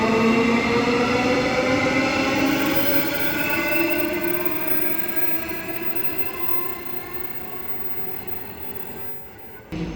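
A fast electric train rushes through Joondalup station in Perth without stopping, a loud, steady whooshing roar with a rising whine that slowly fades as it passes.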